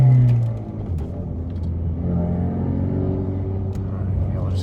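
A tuned Ford Mustang EcoBoost with a clutch in sport mode pulls away and accelerates on a back road, its engine a steady close rumble and whir throughout.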